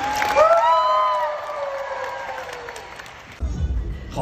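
A fan meeting audience applauds and cheers for the seven members of BABYMONSTER, with bright whoops and shouts over clapping that fades, then swells again near the end.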